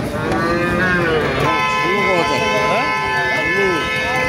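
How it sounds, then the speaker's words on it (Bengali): Cattle low loudly and repeatedly at a busy cattle market at Muradhat in Thakurgaon, with several long, wavering moos overlapping amid a constant hubbub of crowd noise. "সুপ্রিয় দর্শক দেখেন কত সুন্দর সুন্দর গরু।"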